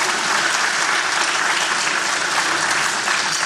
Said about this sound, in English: we give Brian another round of applause.